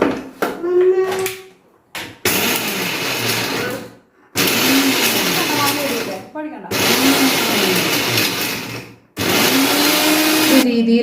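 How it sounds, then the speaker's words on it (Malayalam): Mixer grinder grinding biryani masala in short loud pulses, whirring for a few seconds, stopping briefly, then starting again several times, close by, with a faint voice in between. "ഇനി ഇതൊന്ന് നമുക്ക് മിക്സിയിൽ നന്നായിട്ട് അരച്ചെടുക്കാതെ"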